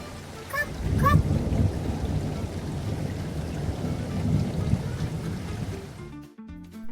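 Steady heavy rain with a low rumbling roar like distant thunder, a couple of faint honk-like calls early, then it cuts off abruptly near the end.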